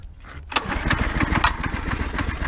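A small go-kart engine sputters and catches after a pull start, then runs in a rough, loud, close-up putter for a couple of seconds, prone to flooding out; no talking.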